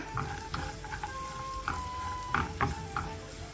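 Cashews and raisins fry in hot ghee for Onam ada pradhaman payasam, giving a quiet, steady sizzle with scattered light pops and clinks from stirring, close and without any talking.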